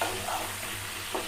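Pointed gourd sizzles in a pan with salt and turmeric, a brief close hiss of frying with a couple of stirring scrapes, steady and moderately quiet.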